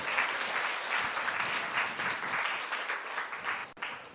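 A church congregation claps hands in praise, dense sustained applause at moderate distance filling the whole stretch, with a brief dip near the end.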